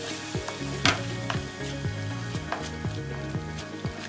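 Chole masala with salt and dhania leaves sautés in a pan, giving a steady sizzle. Regular scraping strokes of stirring repeat through it, close and clear.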